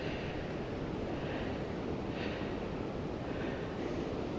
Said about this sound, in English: It's so windy up here today.